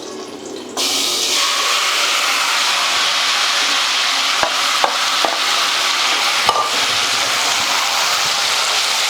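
Food frying in a pan sizzles loudly and continuously after a brief quieter start, with a few sharp scraping clicks as a utensil stirs through it.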